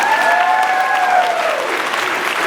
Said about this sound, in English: Everyone applaud for James Dashner